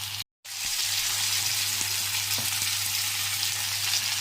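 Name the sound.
green mango frying in pan with mustard seeds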